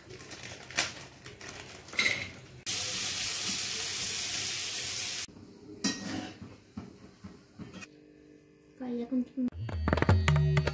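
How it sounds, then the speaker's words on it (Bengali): Bengali-style fried rice with spices is stirred in a pan, with a loud sustained sizzle in the middle, metal spatula scrapes and clanks before and after, and faint voices in the background. "এবার সবগুলো একটু ভালো করে হালকা করে নেড়ে মিশিয়ে দেওয়া হচ্ছে"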